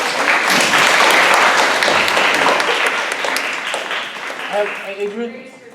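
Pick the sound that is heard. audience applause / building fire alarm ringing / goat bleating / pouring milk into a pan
audience applause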